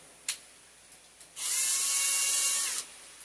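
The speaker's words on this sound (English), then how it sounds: "Got the drill." A short burst of a high-pitched electric drill whirring steadily for about a second and a half, close by, after a few faint clicks, during work on an HK416.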